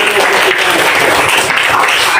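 A classroom full of students claps together, steady and loud, a dense burst of applause lasting a couple of seconds.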